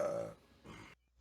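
A single close, drawn-out human burp during a tabletop role-playing game session, lasting about a second before trailing off into quiet.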